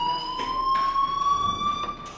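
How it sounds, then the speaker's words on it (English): Fire alarm in the video game Life Is Strange, a steady high electronic tone with a faint upper overtone, sounding continuously at moderate level with no talk over it. "do you hear that fire alarm?"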